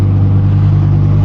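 A Lamborghini Huracan RWD EVO Spyder engine sounds close and loud, a steady deep rumble with strong low harmonics that holds constant through the short stretch with no talk over it.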